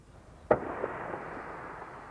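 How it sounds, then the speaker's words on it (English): Gunfire from the war echoes across the river east of Osijek, a single sharp distant blast at first followed by a long rolling rumble and a few faint later pops, with no voices. "The noise of gunfire rolled across the river east of Osijek"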